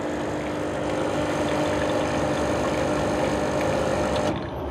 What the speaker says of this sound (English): then the pump kicks back again